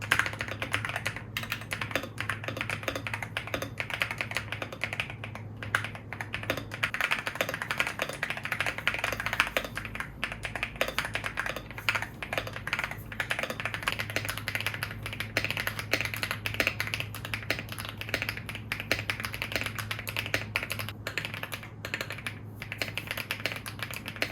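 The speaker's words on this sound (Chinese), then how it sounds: "我觉得我直接录2段差异给你们听会比较快" Rapid clicking of a computer keyboard typed on both with and without a wrist rest under it, a dense continuous patter of keystrokes close to the mic with a low steady hum beneath, and no speech.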